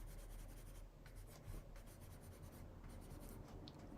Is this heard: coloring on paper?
yes